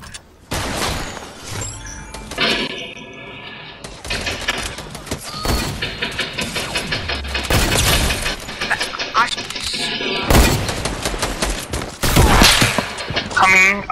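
Sniper rifle shots and other gunfire crack out in an online shooter match, loud sharp bursts scattered through the clip among impacts and game effects, with players talking over them.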